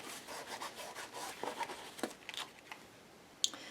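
Timber Brown ink is rubbed onto a doll's fabric around its arms with quick, soft scrubbing strokes. The strokes come in short bursts, faint and close, with no talking.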